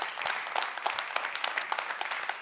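An audience applauds the ICMM Dance Ensemble at a centennial event, with a short burst of dense, crisp clapping from a crowd and no talk.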